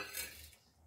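Chopped capsicum being stirred into chicken keema in a pan, a short faint scrape of a spoon against the pan.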